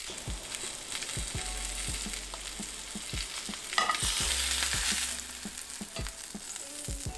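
A steak sears in a cast iron pan with rosemary garlic butter, giving a steady, close sizzle with regular utensil clicks and taps throughout and a brief louder flare midway.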